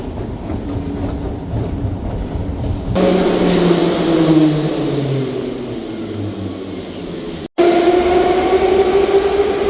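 A St. Petersburg metro train runs loudly through the subway, with steady rumbling and roaring wheels, rising squeals and a brief drop partway before the din resumes at full strength.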